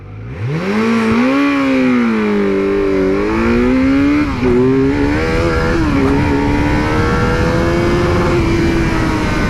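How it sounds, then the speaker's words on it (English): A Kawasaki Z900 inline-four motorcycle launches hard from a standstill, its engine note climbing loud and close through the gears with brief dips at each shift before pulling steadily on. "This bike has pretty good launch, so I'd like to show you that."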